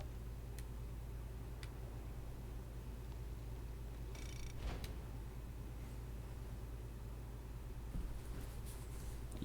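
Low, even purring from a nearby kitten runs the whole time, faint and steady, with occasional light ticks and a short hiss of background game noise.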